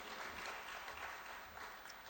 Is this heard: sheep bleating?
no